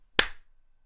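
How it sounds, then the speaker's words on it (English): A single sharp hand clap, close and crisp, with a short decaying tail and no other sound around it. "if I clap my hands like this"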